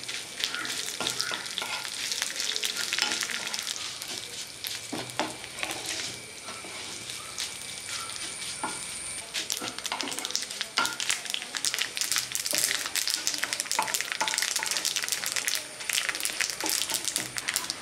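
Mustard seeds, dried red chillies broken into small pieces and curry leaves fry in hot oil, giving a close, continuous sizzle with dense popping and crackling that runs on with no one speaking.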